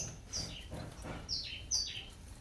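A pijantung spiderhunter bird gives several short, sharp chirps, each sliding down in pitch, spaced irregularly over a quiet background with no voices.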